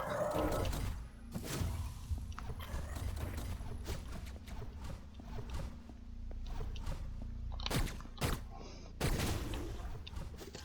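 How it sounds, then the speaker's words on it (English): Turret shots in the video game Hyper Light Drifter: sharp, sparse blasts at irregular intervals, several clustered near the end, over busy game sound and music. "Just be careful of the turret shots."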